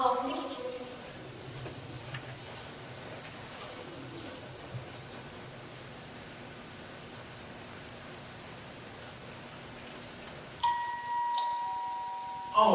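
A doorbell chimes with a bright two-tone ring near the end, cutting in sharply after a long stretch of quiet room noise during a stage musical.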